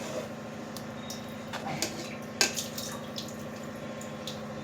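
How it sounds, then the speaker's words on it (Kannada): Water swished around inside a mixer jar to rinse it while making dosa batter, a continuous low sloshing and trickling with a few sharper splashes and clinks, close and without speech. "ಸ್ವಲ್ಪ ನೀರು ಹಾಕಿ ಜಾರ್ ತೊಳೆದು ಹಾಕ್ತೀನಿ ನೋಡಿ"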